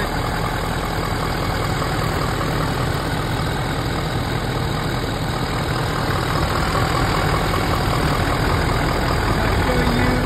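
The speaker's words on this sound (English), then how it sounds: "Here's your engine, it's looking extremely good." Truck engine idling steadily and close, a continuous even rumble with no pauses and no talk over it.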